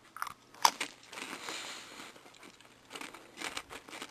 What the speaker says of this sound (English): me chewing some food isn't really setting the mood